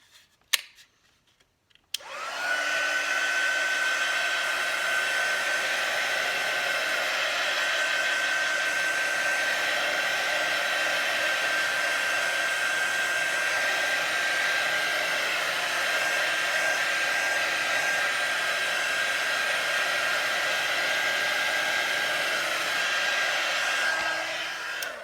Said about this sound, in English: we're gonna dry this with the heat tool